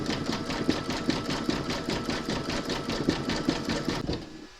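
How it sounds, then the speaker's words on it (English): Embroidery sewing machine satin stitching an appliqué with metallic thread, a steady rapid mechanical chatter with regular pulsing needle strokes, close and continuous before stopping near the end. "You're now going to stitch round number 12, and that's going to do the satin stitching"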